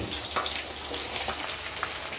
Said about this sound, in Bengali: এতক্ষণে মাছ এক পিঠ ভাজা হয়ে গেছে,